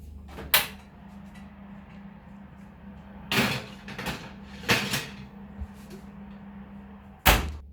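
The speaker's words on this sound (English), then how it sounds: "you need to put them in the oven" Oven door on a home kitchen oven shutting after a tray of muffins goes in to bake, heard as a few sharp knocks and clunks spread over several seconds, one firm close near the start and another at the end, with quiet room tone between.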